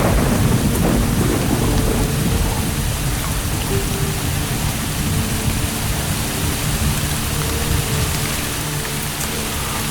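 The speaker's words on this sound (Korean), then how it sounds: "지금 할 수 있는 건 폭풍우 속에 앉아 있는 것뿐이죠." A wet-season thunderstorm over southeast Queensland koala habitat: loud, dense heavy rain pours continuously while low thunder rumbles underneath, with no voices.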